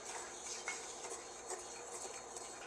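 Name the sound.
stirring flour roux in a thick-bottomed pan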